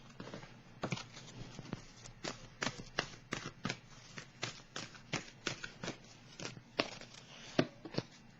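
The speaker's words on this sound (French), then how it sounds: "Je peux bien piger une carte ici." Tarot cards are shuffled and drawn by hand in a quiet room, a close series of soft, crisp riffles and slaps that repeat at an irregular pace, with no talking.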